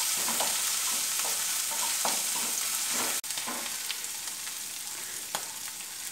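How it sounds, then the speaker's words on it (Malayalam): Green chilies with crushed ginger and garlic sautéing in oil for mutton curry, a bright continuous sizzle with repeated close spoon stirs and scrapes against the pan, one brief sharp knock midway, no talking. "ജസ്റ്റ് അതിൻ്റെ ആ ഒരു പച്ചപ്പ് മാറാൻ വേണ്ടി ഒന്ന് ഇളക്കി കൊടുക്കുക."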